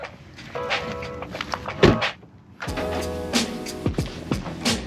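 A small release lever pops with a short thunk on an Alfa Romeo Giulia, followed by clicks, a plastic catch and handling sounds, fairly close and fairly quiet.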